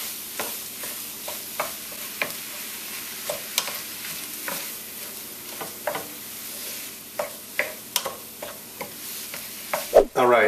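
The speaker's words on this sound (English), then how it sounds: "You want to break it up into smaller pieces as you saute it around" Ground turkey and onion sautéing in a pan for homemade tacos, under a steady sizzle with regular spatula taps and scrapes as the meat is broken up, close and clear.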